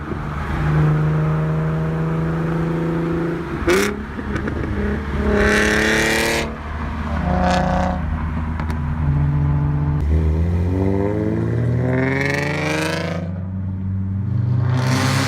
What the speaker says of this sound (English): So many different exhausts you can get, and the Z's sound so good.